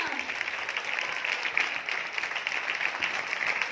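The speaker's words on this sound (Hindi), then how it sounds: "उस यीशु के लिए जोरदार तालियां।" A church congregation claps loudly for Jesus during a healing ministry service at New Jerusalem church, a steady wash of applause across the whole span with a faint voice in the background.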